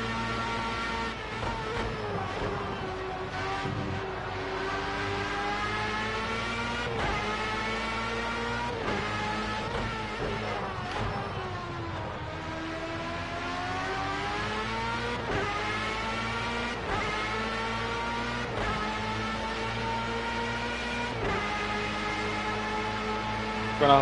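A Formula A open-wheel race car in Project Cars 2 howls through its gears, the high-pitched engine note repeatedly climbing and dropping as it upshifts and downshifts, steady and close throughout.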